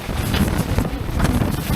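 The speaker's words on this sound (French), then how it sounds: "Voilà, donc un petit peu de vent." Wind buffets a racing sailboat at sea, a constant rushing roar against the microphone with no other clear sounds.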